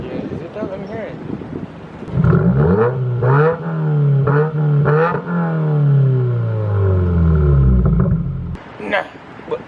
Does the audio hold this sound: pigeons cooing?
no